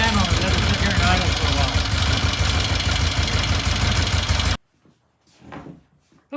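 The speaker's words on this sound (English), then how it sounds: "we're going to turn the fan on and let it sit here and idle" Vintage British motorcycle engine idling with a fan running, a loud, steady, rough throbbing close up for several seconds, then cutting off abruptly to quiet with a brief voice afterward.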